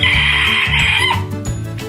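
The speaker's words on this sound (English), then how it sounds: "That's another one of our roosters, Minnie." A rooster crows loudly and close by, a long harmonic call followed by shorter clucking bursts.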